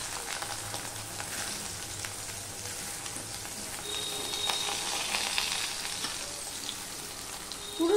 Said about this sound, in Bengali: সয়াবিনটা আমি একটুখানি ভেজে নেব।